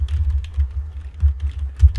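Typing on a computer keyboard while writing a Python program, with soft, rapid, irregular key taps close by and no voices.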